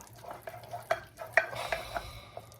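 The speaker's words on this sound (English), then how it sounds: "Stir that in now." Chocolate mixture being stirred in a pan until smooth and shiny, a soft scraping swirl with a few distinct spoon knocks against the pan, close and fairly quiet with no talking.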